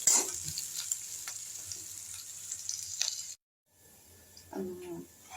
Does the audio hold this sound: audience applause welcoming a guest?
no